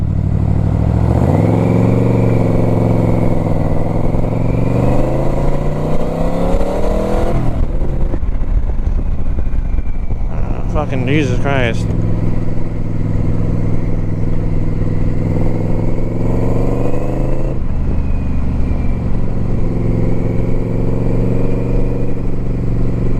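A Yamaha Royal Star XVZ1300 motorcycle with a single carburettor swap rumbles loudly while riding, revving up through rising pulls with a mid-clip dip. It settles into a steady, close engine drone, and a man swears briefly over it.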